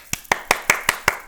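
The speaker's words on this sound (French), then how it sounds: "Et on applaudit bien fort." Six sharp hand claps from a single person, evenly spaced in a steady rhythm, close and fairly loud with no talking.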